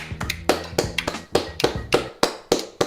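A few people clap briefly, sharp uneven hand claps close up, a small burst of applause with no voices.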